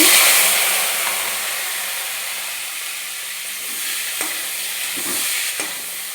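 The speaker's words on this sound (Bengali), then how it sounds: "আমি কুমড়োগুলোকেও ভেজে নিচ্ছি" Pumpkin pieces fry in hot oil with a loud, continuous close sizzle, broken by a few soft stirring knocks in the last couple of seconds and no voices.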